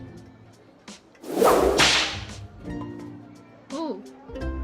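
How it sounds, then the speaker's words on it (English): A bullwhip cracks once in the video game Lil Guardsman, a sharp, loud snap with a brief swish, set among game sounds and a short voiced exclamation. "Let's use the bull whip."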